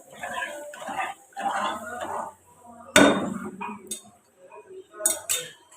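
A spoon stirs sugar and half a cup of milk in a cooking pot for colourful zarda, giving scraping strokes and a few sharp metallic clinks against the pot, close up and alone.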